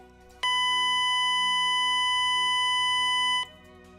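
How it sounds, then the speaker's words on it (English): A ship's crew alert signal: a steady electronic alarm tone sounds without a break for about three seconds, loud and unwavering, then stops abruptly. "The crew alert is a continuous sounding of the ship's warning system,"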